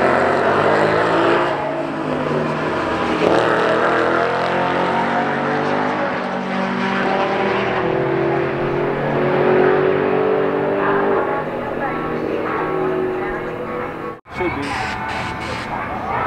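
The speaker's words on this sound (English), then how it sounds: "Mustang versus an Accord here, possibly." A Mustang and a Honda Accord drag racing at a cars and coffee meet in Indianapolis, engines roaring loudly and continuously as they accelerate, heard up close with crowd noise around.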